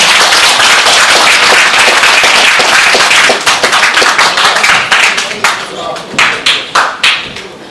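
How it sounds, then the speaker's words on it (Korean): Audience at a Korean commemorative ceremony for An Jung-geun gives a dense burst of applause that thins into scattered individual claps and fades near the end. "큰 박수로 맞아주시기 바랍니다"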